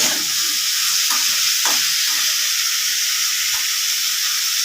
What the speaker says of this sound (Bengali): এবার আমি আলুটা লাল করে ভেজে নেব